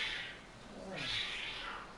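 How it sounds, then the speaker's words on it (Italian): Cats fighting outside a window, a faint, distant yowling and caterwauling that rises and falls over about two seconds against quiet background hiss. "c'è un gatto fuori dalla mia finestra"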